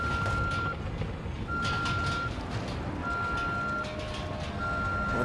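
A bus's reversing alarm in The Evil Within video game: steady, evenly spaced beeps repeating over a low rumbling engine, fairly loud and close, with no one talking.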